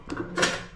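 Metal pots and utensils are handled in an abandoned hot-spring building, giving two quick close clattering clinks, the second louder and more ringing.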